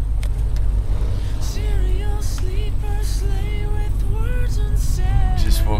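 Van cruising on a highway alongside an 18-wheeler truck, a loud continuous engine and road rumble with tonal whine shifting up and down throughout.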